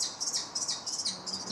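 High, rasping squeals from two kestrel chicks in a nest repeat in quick bursts, close by and fairly faint, with no other sound around them.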